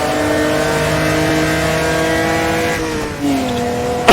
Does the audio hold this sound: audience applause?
no